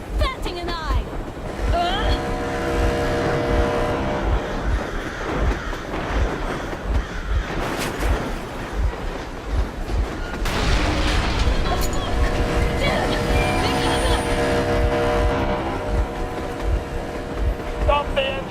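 Vehicle engine running in the video game Metro Exodus: a continuous low rumbling drone with a steady pulsing throb persists throughout, mixed with windy rushing noise and voices speaking over it.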